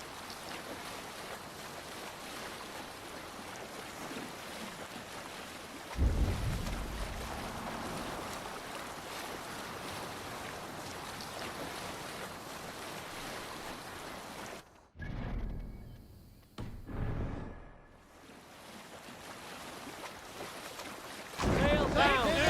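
A boat sailing down a river in Assassin's Creed Valhalla, with steady low water rush and wind noise that swells and briefly cuts out, then resumes with a louder splash near the end.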